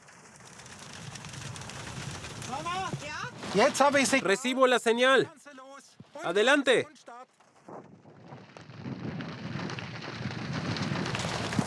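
Heavy rain from a storm hisses steadily as background, with a voice shouting over a crackling radio signal partway through before the rain noise returns alone.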